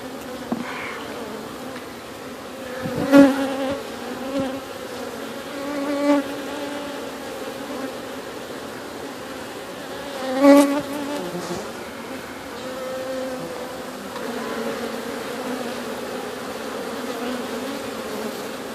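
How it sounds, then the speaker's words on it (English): Many honeybees from a swarm being cut out of a structure buzz continuously in a dense, droning hum, with individual bees swelling louder as they pass close by. "I think I may have to move another batch of bees out of the way temporarily."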